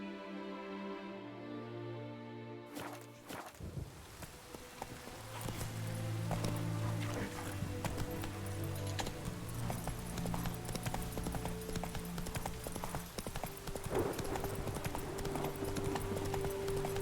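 Roach the horse's hoofbeats in The Witcher 3, steady clip-clop footfalls over a game music background, starting after a brief opening passage and continuing throughout.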